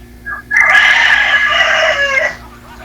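A loud fighting rooster crow rings out close by, one long drawn-out call after a brief lead-in, with no talking.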